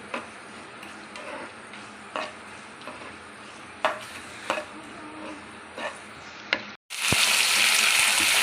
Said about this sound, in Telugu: కొంచెం కరివేపాకు, ఇలా ఫ్రై చేసుకోవాలండి.